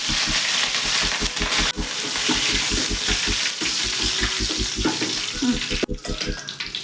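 Fennel seeds and curry leaves fry in hot oil, a loud dense crackling sizzle that fills the whole clip with a rapid regular pulsing underneath, no talk.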